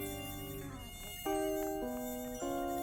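Cartoon mosquitoes buzz in close, high whining tones that shift pitch in distinct steps, sustained and fairly loud throughout, with no talking.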